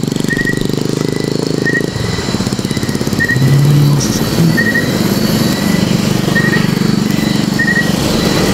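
Vehicles, including motorcycles, pass along a road in a steady stream of engine hum and road noise, with intermittent high squeals sounding over the traffic.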